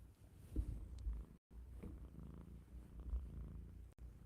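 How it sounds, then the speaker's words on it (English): A cat purring close up, a soft low rumbling rhythm of repeated breaths, quiet and steady with brief pauses. "listen to him purr."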